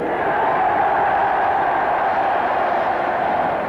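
Steady roar of a large rugby crowd cheering a successful penalty kick by Dusty Hare at the 1981 John Player Cup Final, Leicester Tigers against Gosforth, sustained and even throughout without fading.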